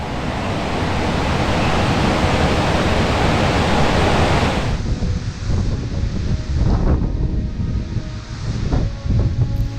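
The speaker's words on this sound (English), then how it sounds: "the driving wind renders my microphone useless" Strong wind on a cloudy mountain top near the North Cascades and Mount Baker pounds a microphone with a loud, continuous roaring rumble, easing slightly partway through into gusty, uneven buffeting.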